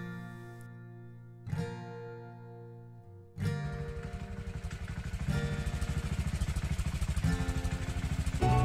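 Motorcycles on a rough mountain road, engines starting and idling with low throbbing pulses that swell into steady revving as the bikes move off, close and growing louder.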